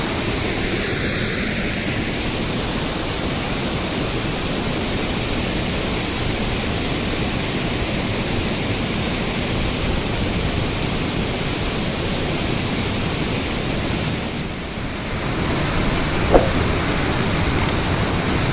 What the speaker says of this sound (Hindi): ब्रिज में से झील का पानी नीचे गिरने लगा है। इसका शोर आपको सुनाई पड़ रहा हो